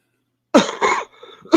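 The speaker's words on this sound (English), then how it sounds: "Cough, yeah, cough." Two sharp close coughs followed by a softer throat-clearing rasp and then another cough, loud and isolated after a stretch of silence.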